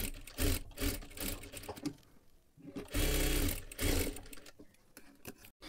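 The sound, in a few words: sewing machine stitching sleeve lining edge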